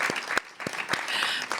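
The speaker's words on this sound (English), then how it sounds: "you can clap." Audience clapping at a Faces of Faith honoree celebration comes in a few sparse, distinct claps over a soft background murmur.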